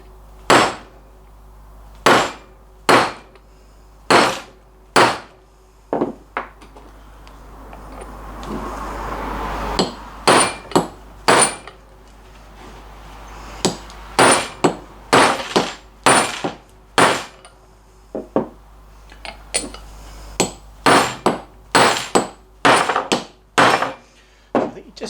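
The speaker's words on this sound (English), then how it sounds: "just heard the pitch of the hammer change when I hit that one" A hammer strikes an aluminium socket again and again to drive a car wheel bearing home in its hub. The blows are sharp, loud metallic clangs, spaced irregularly and then coming faster in bursts near the end.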